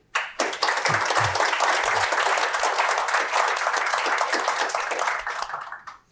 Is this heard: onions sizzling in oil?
no